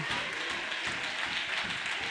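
A worship congregation at a diocese assembly claps hands together, a dense, steady wash of applause-like clapping heard at a distance without clear individual claps.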